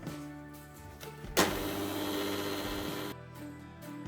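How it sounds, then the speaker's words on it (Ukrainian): An electric mixer at low speed whips curd cheese with beaten egg whites for a Lviv-style cheesecake, a quiet, steady motor whir that swells briefly in the middle of the clip before dropping back to a faint hum. "збиваємо на маленькій швидкості міксера"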